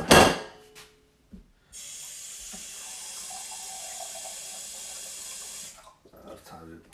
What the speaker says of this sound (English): I should put some more purified water in there.